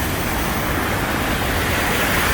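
Steady, loud rushing creek water pours through a rocky gorge on Winter Creek Trail in Girdwood, Alaska, a dense unbroken roar with no voices.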